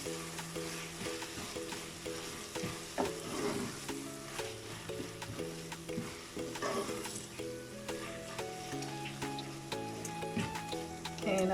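A potato and calabash curry stirred and frying in a pot on lowered heat: a steady sizzle with repeated spoon scrapes and knocks, accompanied throughout by loud music.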